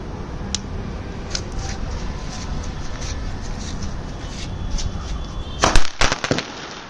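A Diwali sky shot firecracker bursts with a few sharp, loud cracking pops close together near the end, after a steady outdoor background hum with faint distant pops.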